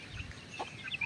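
A hen with newly hatched chicks makes faint, short clucks and soft peeps outdoors, a brief scattering of calls over quiet background with no speech.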